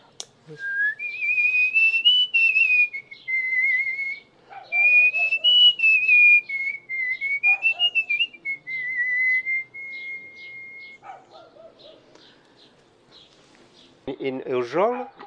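A person whistling a wavering, tuneful melody with long held notes, clear and close, followed by a brief burst of chatter at the end.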